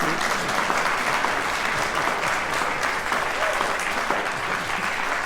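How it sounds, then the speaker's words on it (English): Steady, dense applause from a crowd fills the whole stretch during an orchestra rehearsal of Schubert's "Unfinished" Symphony, close and even with no talk. "That's got a little applause."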